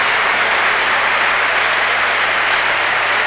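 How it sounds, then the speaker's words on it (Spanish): Loud, dense ovation from spectators at a women's knockout bowls tournament, a continuous wash of clapping filling the hall for a few seconds after a player's strong ball. "Gran ovación, la que está llevando"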